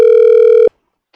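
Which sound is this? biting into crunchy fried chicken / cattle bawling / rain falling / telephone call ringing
telephone call ringing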